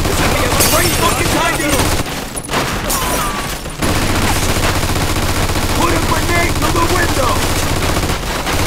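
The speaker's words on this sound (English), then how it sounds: "We found the machine gun!" Machine gun fire from the video game Mafia II rattles in loud, sustained bursts, with a brief lull partway through before the shooting resumes, and voices shout amid the gunfire.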